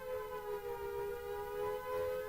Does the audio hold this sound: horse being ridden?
no